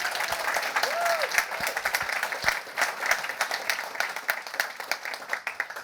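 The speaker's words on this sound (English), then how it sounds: "A big round of applause for Karis." Audience applause at a tech summit on TV customer experience, a steady round of clapping from a seated crowd, fairly close and sustained for several seconds, with a brief voice and scattered louder claps.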